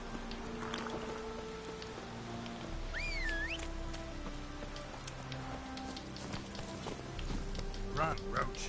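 Geralt's horse Roach clip-clops in The Witcher 3: Hearts of Stone, irregular hoof beats over a low musical drone with a whistling, swooping tone and occasional voices.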